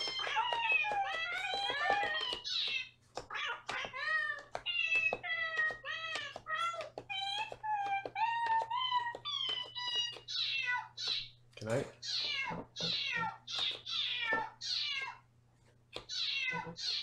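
Synthesized cat meows from the Nintendo Labo cardboard piano kit, played as a rapid run of pitched meow notes, loud and close, with a steady electronic hum underneath and a few short pauses between phrases.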